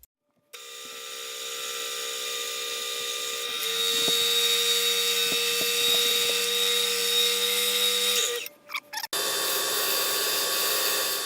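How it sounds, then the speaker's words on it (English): A wood lathe spins a maple bowl to heat a wax finish, giving a steady motor whine and hum that rises in intensity partway through, with a few faint rubbing ticks, then cuts off abruptly near the end. "allow it to seep into the wood before turning on the lathe to heat the wax"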